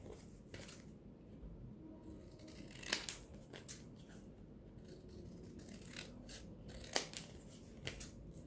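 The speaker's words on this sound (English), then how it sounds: "And then I'm going to cut this like a tag." Scissors snipping through a painted paper card to shape a tag, giving a few sharp isolated cuts over a quiet background.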